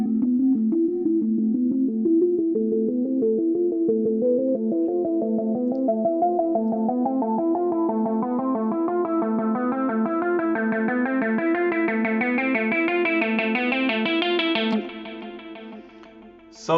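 A Carbon instrument plays a rolling arpeggio that sounds like a synthesizer yet organic. Its repeating notes climb steadily higher over the whole stretch, loud and continuous, then cut off abruptly near the end.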